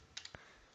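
Keys tapped on a computer keyboard while entering a percentage calculation, a few quiet, separate clicks spread over under a second with near-silence between them.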